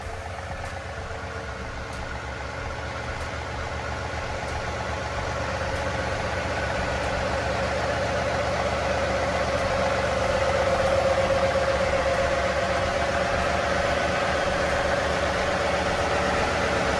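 A tractor engine idles steadily while backing up to a Baumalight 1P24 PTO stump grinder, a continuous mid-pitched rumble that swells slightly louder partway through, with no talk.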